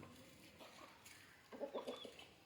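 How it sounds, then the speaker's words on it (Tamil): A black native rooster in a village coop gives a few short, faint clucks, with soft outdoor background noise around it. "என்ன ஒரு சேவல்."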